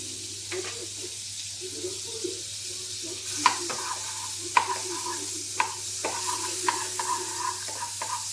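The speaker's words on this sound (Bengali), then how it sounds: "ফ্রাইং প্যানটা গরম হয়ে গেছে। এবার এর মধ্যে দিয়ে দেবো 2 চামচ বাটার।" Butter melting in a hot frying pan over a low gas flame, with a soft steady sizzle broken by several sharp clinks of a utensil against the pan.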